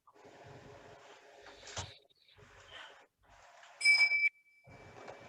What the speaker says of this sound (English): So I'm going to ring a bell to start our little ritual.